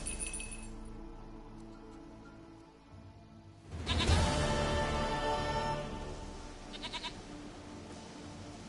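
A goat bleats in The Witcher 3, heard as a fairly quiet in-game call that swells midway through, over a soft ambient background with a faint glassy clink.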